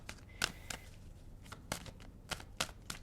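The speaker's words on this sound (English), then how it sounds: "But let me shuffle, and I'm going to pull the 9 cards." A deck of tarot cards is shuffled by hand, a quick run of close, crisp riffling snaps arriving in uneven bursts with no talking.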